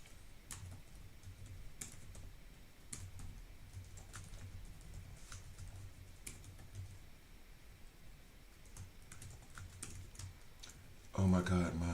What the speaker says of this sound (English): I'm typing Swiss keyboard on my US format laptop